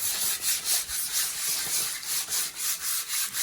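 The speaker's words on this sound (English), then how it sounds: "So this is why I'm sanding everything down and priming it" Wood being sanded down by hand before priming and painting, a steady back-and-forth rubbing scrape in repeated strokes, close and fairly loud with no talk.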